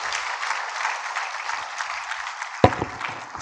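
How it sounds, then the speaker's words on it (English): Warm audience applause for a professor at an Afreximbank annual meeting, dense steady clapping from a sizeable crowd, with a sharp knock partway through. "So a great warm round of applause to our professor here."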